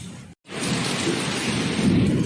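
A thunderstorm with heavy rain and wind: a brief silent gap, then a steady, loud wash of pouring rain and gusting wind that lasts to the end, with no voices.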